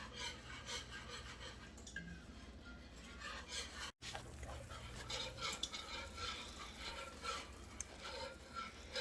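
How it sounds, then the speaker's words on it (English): A mixture of pork rind biscuit ingredients is stirred steadily in a pan until melted, a close, continuous scraping and rubbing with a soft sizzle beneath and no talking. "I'm just keep stirring it until it's nice and well combined and melted"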